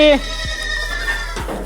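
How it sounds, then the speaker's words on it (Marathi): Goats on a closed-housing farm bleat as the shed door opens to let them out, a couple of short calls close by with a brief human voice at the start. "आता आपण आपल्या गोट फार्मचा दरवाजा खोलून शाळ्यांना इकडे मोकळं सोडणार आहे जेणेकरून त्यांचा व्यायाम पण होईल आणि त्यांना चारा पण खाता येईल"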